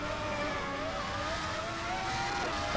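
A 1990 Ferrari 641 V12 Formula 1 car in the rFactor 2 racing game, its engine a loud, steady, high-pitched whine that holds close and constant throughout, with tones climbing slightly as the revs build.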